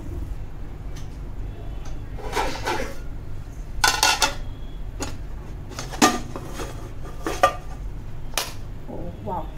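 An omelette slides from a pan onto a plate with light clinks and scrapes of pan and dishes, several brief knocks spread across a steady low kitchen hum.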